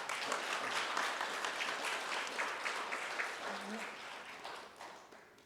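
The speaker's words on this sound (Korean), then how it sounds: "여러분, 큰 박수 부탁드립니다." Audience applause at an award ceremony as an executive is called to the stage, a steady dense patter of many hands held at moderate distance throughout, with faint chatter beneath.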